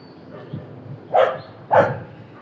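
A dog gives two short, distinct barks about half a second apart, close by, over a quiet background with faint rustling.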